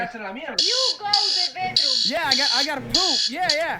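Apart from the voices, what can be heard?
alarm sounding in the background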